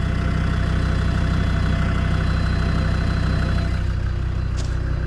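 A used car at a UK auction idles steadily just after starting, its engine running as a loud, even, continuous drone at close range with no one talking.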